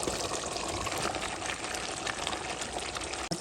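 Chickpeas rattle and patter continuously as they are poured into a pot, a dense close scatter of clicks lasting a few seconds.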